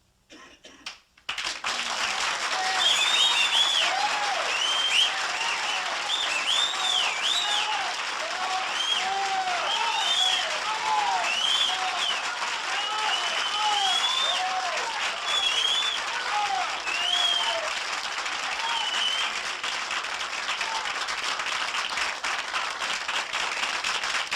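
A comedy club audience breaks into loud, sustained applause that holds steady for over twenty seconds, with scattered whistles and cheers mixed into the dense clapping.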